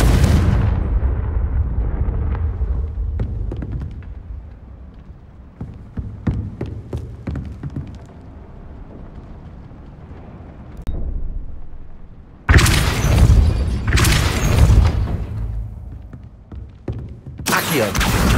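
Confringo blasting spells fired in Hogwarts Legacy, booming explosions that roll off into low rumbling hum, with quieter crackling hits in between and several loud bursts near the end.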